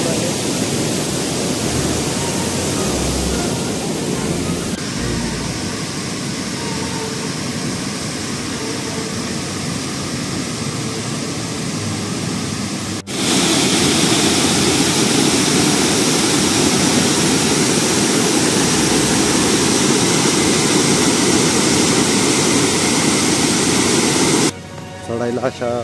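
Loud, steady roar of the Bhivtas waterfall at Surgana during the rains, broadband rushing water with spray, continuous throughout and jumping louder midway, with no clear talk over it.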